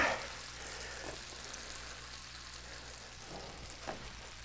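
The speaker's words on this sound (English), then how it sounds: "very carefully flip this over like that and press it down" A Cubano sandwich fries in a pan while being pressed down, giving a quiet, steady sizzle with a few soft knocks and scrapes.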